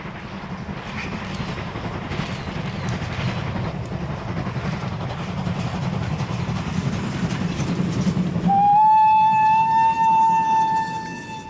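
A Prussian P8 steam locomotive running past with steady rolling rumble and rail clatter, then a long loud whistle blast near the end.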